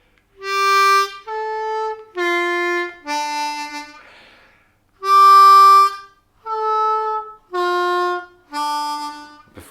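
Slow C harmonica phrase built on the 3 draw and 2 draw whole step bends: eight separate sustained notes with short gaps between them, played alone and fairly close.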